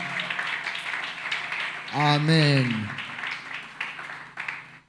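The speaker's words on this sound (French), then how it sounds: "Est-ce qu'on peut le manifester par des acclamations, s'il vous plaît?" A church congregation at a Sunday service claps and calls out in acclamation, a steady spread of clapping with a loud sung or shouted voice rising briefly in the middle before the noise trails off.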